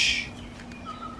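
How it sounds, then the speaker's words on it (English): A bird calls outdoors in the background on a morning homestead with goats, a faint chirp near the start followed by thin, distant whistling notes over quiet ambience. "I don't know if you can hear that crazy bird in the background"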